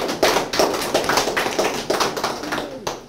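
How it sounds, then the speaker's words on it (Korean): A small audience at an art exhibition event claps together, the distinct hand claps close and rhythmic, pattering steadily for a few seconds. "박수 한번 주시죠."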